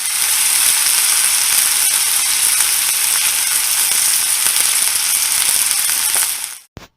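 Mussels dropped into sautéed vegetables for mussel soup produce a loud, close, continuous sizzle that runs evenly before cutting off abruptly near the end.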